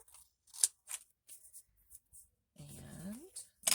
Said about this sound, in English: let's get our scissors and cut this little nubbin out